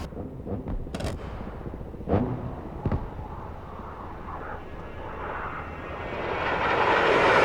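A-10 jet in DCS World swelling from a distant rumble to a loud, rising engine roar as it comes in on a west-to-east runway attack run, with a few sharp bangs of gunfire or explosions early on.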